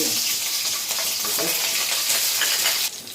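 Cut green chillies fry in hot oil with a bright, close, crackling sizzle that stays steady, then drops off sharply near the end. No one speaks.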